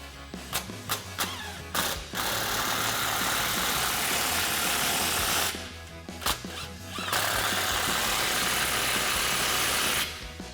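A Ford F-150 EcoBoost with a Flowmaster FlowFX dual exhaust with black tips runs close by, idling with a low steady rumble and rising in a few revs, with brief mechanical clicks at the start.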